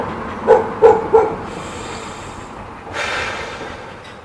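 Three quick barks from a nearby dog in a row, followed by quiet and then a soft breathy rush of sound.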